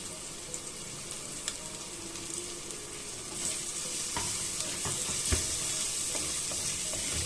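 Chopped tomato sautéing in a pan for a Kerala village-style coconut fish curry, a steady close sizzle with a few sharp stirring scrapes and clicks throughout, no voices.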